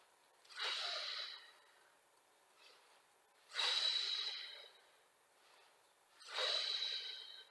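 Three deep, airy breaths are drawn during a Pilates session, each a close, breathy rush rising and fading slowly, evenly spaced every few seconds with quiet pauses between and no talking.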